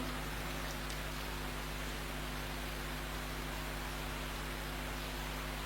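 Steady rain falls outdoors during a gathering in Bandung, a dense even hiss of noise with no break, accompanied by a low electrical hum.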